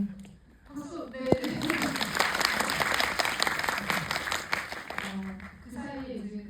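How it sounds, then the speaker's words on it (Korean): An audience at a film screening Q&A claps enthusiastically, building after a brief spoken line and continuing strongly for several seconds before fading into talk again near the end. "박수"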